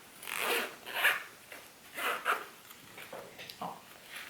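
A zipper is drawn closed on a fabric passport holder in a series of short, close rasping pulls, about six or seven quick strokes in a quiet room.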